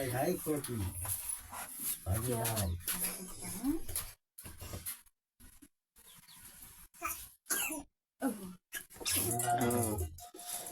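A person coughs a few short times in a home while cooking is going on, the bursts falling between stretches of conversation.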